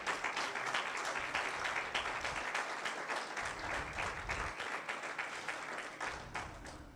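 A church congregation applauds steadily and loudly, many hands clapping in a dense, continuous wash that swells slightly in places and holds for several seconds without talk.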